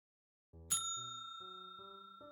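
A bright bell rings once in the video game Nine Noir Lives, a sharp ding over a low musical backdrop, its clear tone lingering and fading over two seconds.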